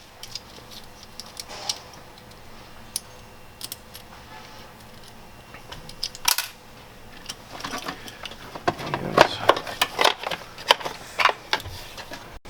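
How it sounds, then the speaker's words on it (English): Nut and lock washer come off a breaker being wired to a fuse block in a 170 Sprinter van: scattered small metallic ticks and clicks, close and fairly faint, growing busier with handling noise toward the end. "Gonna take the nut and lock washer off."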